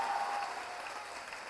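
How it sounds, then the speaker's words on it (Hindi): Applause from an audience at a Hindi poetry gathering (kavi sammelan), fairly faint and distant, an even wash of clapping that tapers slightly toward the end. "दोनों हाथ हवा में उठाकर जोरदार तालियां बजाएं,"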